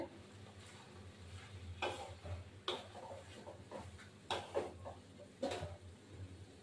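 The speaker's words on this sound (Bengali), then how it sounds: "ফ্রাই গরম মশলা দিয়ে এবার একটু নাড়াচাড়া করে নাড়িয়ে দেবো" Cabbage being stirred with garam masala in a pan, a quiet background hiss broken by several soft scraping strokes of a spoon at irregular intervals.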